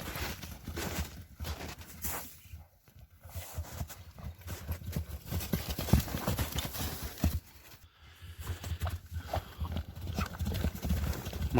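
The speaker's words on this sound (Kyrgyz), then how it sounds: "Бул жылкы мына көк чокен кандай жүгүрөт?" Hoofbeats of an Orlov trotter horse galloping, a rapid drumming rhythm that swells and fades as it passes, fairly faint and distant, with occasional voices in the background.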